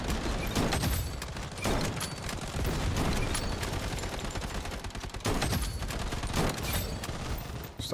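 Rapid gunfire from the shooter game Blood Strike, dense bursts of automatic fire overlapping with single heavy shots, loud and close throughout with brief lulls between volleys.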